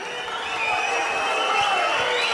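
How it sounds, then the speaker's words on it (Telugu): An audience at a government pass book distribution event addressed by Chief Minister Chandrababu Naidu breaks into steady, loud applause and cheering that fills the whole stretch without pause. "గట్టిగా చప్పట్లు కొట్టి అభినందించండి"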